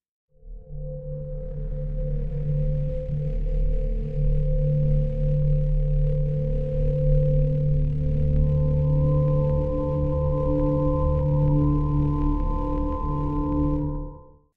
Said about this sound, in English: So we're starting to get that kind of grainy quality to it.